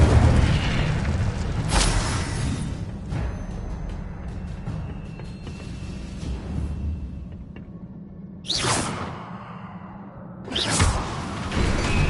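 Incendio fire spell bursts in the Hogwarts Legacy game on PS5, loud booming whooshes of flame at intervals over a rumbling game soundscape.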